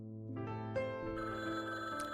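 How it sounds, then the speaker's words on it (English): A telephone rings in the video game Rainswept, with a clear electronic ringing tone that repeats and builds in layers over about two seconds, loud and close, with no talking over it. "Phone rang."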